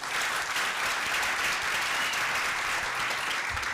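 An audience clapping steadily, a loud, dense and continuous round of applause filling the room without a break.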